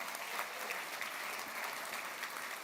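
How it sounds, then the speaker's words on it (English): An audience applauds a volunteer at a sales talk, a dense steady clatter of many hands clapping throughout, fairly loud with no pauses. "Big round of applause for our volunteer."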